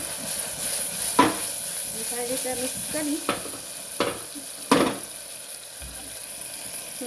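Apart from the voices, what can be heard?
tempering (vaghar) sizzling in pan for dal-dhokli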